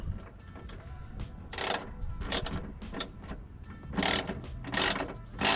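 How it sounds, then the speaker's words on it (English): A spanner tightening a bolt on a car strut brace of an Abarth Punto Evo, heard as short bursts of ratcheting metallic clicks in uneven groups over a quiet background. "So just hold the nut with a spanner and then just do the bolt up."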